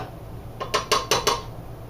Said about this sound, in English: I'm going to put that all into my mixing bowl